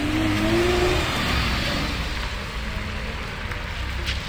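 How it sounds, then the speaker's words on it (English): A Lamborghini supercar pulls away at the Beaulieu Supercar Weekend car show, its engine a loud, rumbling roar that holds steady close by as the car drives off slowly. "Your first car, a Lamborghini."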